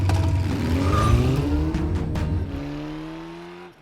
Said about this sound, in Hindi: चला अब एक्सीलेटर दबा।